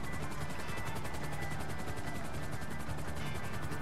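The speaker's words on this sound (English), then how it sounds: "Come on, I got a helicopter" Video game helicopter, a steady rapid rotor chop with continuous engine drone, moderately loud and unbroken.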